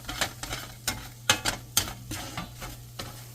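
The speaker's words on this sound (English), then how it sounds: "now we're going to add the kabsa blend, and we're going to cook this for about a minute till everything is nice and fragrant" Garlic and kabsa spice blend sauté in a pan, a steady low sizzle broken by about a dozen brisk scraping stirs from a utensil, close and fairly quiet, with no talking.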